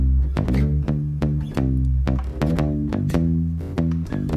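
A DI-recorded acoustic bass plays a steady line of plucked notes, deep and close with round low tones and clear attacks at a regular rhythm, heard alone with no voices.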